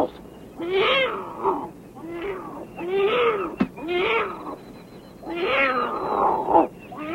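Wild cat kittens hiss and snarl defensively in a series of short, raspy, growling bursts, about five of them, close and fairly loud, with a sharp spit partway through.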